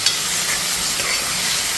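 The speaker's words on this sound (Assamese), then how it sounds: "এতিয়া এইখিনি ধুনীয়াকৈ ফ্ৰাই কৰোঁ ছাগলী মাংস" Goat mutton fries and is stirred in a pan for an Assamese-style curry, giving a steady close sizzle with scraping stir sounds and no talk.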